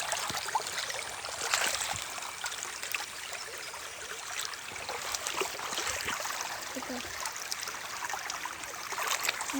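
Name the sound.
stream water flowing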